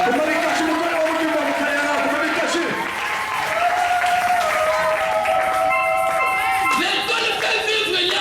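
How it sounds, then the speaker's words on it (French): A church congregation applauds and cheers for God, steady and loud clapping mixed with shouts and voices, with a sustained tone running underneath. "Est-ce que tu peux acclamer Dieu pour la bonne chose?"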